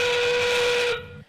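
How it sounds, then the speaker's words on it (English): Endgame whistle at an FTC Centerstage robotics league meet, a single loud, steady whistle blast held for about a second before cutting off, leaving faint low hall noise. "As our endgame whistle sounds"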